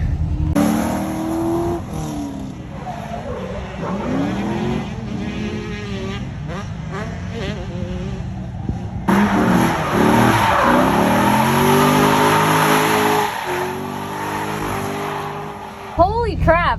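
A drift car circling a track, its engine revving hard with long tire squeal and skidding, loud and sustained, with a short break and a sudden final burst, while a person talks over it.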